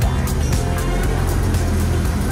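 A car pulls out of a tight parking lot, its engine a loud, close, continuous rumble across the whole stretch, with no talk.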